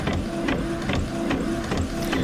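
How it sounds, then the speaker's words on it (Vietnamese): A colour printer running a print job, giving a steady mechanical whir with rhythmic feed clunks and shuffling roughly every half second, close and continuous throughout. "Bây giờ là chỉ đợi cái máy in này nó in hết thôi."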